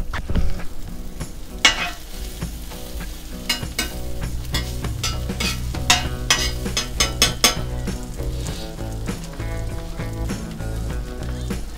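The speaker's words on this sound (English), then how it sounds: "We're ready to cook some burger." Burger patties cooking on a Blackstone griddle, a continuous sizzle broken by frequent sharp metallic scrapes and clinks of a spatula against the flat-top, close and busy.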